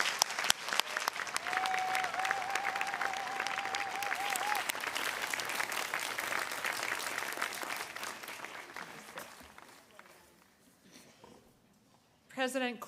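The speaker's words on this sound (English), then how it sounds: "Let's applaud these graduates one more time." A commencement audience applauds graduates at a university ceremony, dense sustained clapping that slowly fades to near quiet before a brief voice returns at the end.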